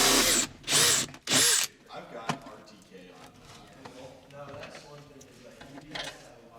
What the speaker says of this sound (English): 1/16" hole saw.